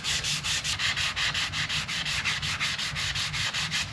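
Steady back-and-forth sanding of a small carousel horse with 220 grit sandpaper, scuffing the surface in quick, even rhythmic strokes, close and continuous with no talking.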